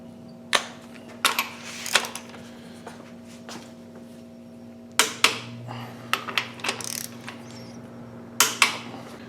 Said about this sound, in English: Just gonna be step torquing the one cap down here.